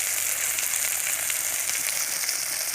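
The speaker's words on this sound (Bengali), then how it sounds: "দিয়ে মশলাটাকে ভালো করে কষিয়ে নেব" Turmeric and salt-seasoned spice paste fries in a pan for a Bengali fish curry, giving a steady, dense, loud sizzle that holds evenly throughout with no voices.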